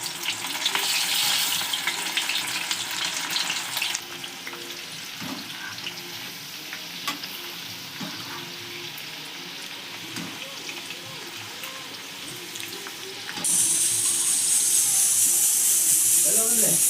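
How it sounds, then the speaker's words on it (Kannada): Soaked dried chickpeas coated in spice deep-fry in hot oil with a loud, hissing sizzle that eases to a softer crackle, then swells again as more are added; a voice talks briefly over it. "ನೋಡ್ರಿ ಈ ತರ ಕರಿಬೇಕು ಇವನ್ನ"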